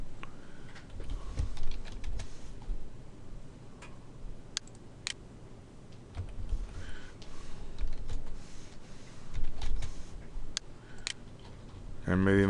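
Light clicking of a computer keyboard, scattered keystrokes and short bursts of typing at close range under intermittent speech.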